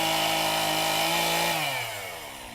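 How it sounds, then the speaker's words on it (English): A trail maintenance crew's chainsaw runs on the Appalachian Trail, whining loudly and steadily at high revs, then dropping in pitch as it winds down toward idle. "I was hearing some chainsaw activity, so that's always good news when you hear that."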